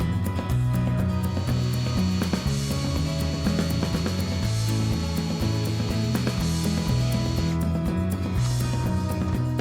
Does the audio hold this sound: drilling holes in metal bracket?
yes